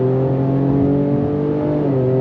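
A 2025 Ford Explorer ST SUV pulls hard under throttle, its engine note droning steadily and rising in pitch through smooth ten-speed shifts, loud and close from inside the cabin with no talk.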